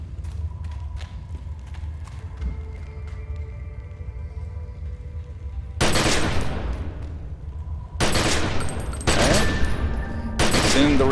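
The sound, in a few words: weapon ability firing at a practice target, video game The Secret World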